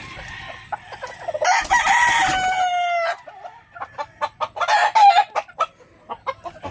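A young brood cock rooster on a farm crows loudly and close by in one long call, followed by a run of short clucks and softer crowing bursts from nearby fowl.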